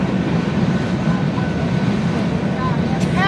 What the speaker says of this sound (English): We gotta wait for the train to go by.